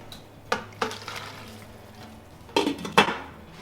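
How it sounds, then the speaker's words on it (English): Raw beef tripe for Polish tripe soup lands in a pot of boiling water with a few clattering splashes and knocks, spread across the clip and loudest near the end. "I'm going to take the raw Flaczki and dump them in a pot of boiling water and let them par cook"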